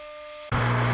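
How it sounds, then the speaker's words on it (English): A heat gun set to 365C with a wide nozzle switches on halfway through, and a faint electrical hum gives way to a loud, steady rush of blowing air with a low drone beneath it. "So I've got the heat gun set to 365C."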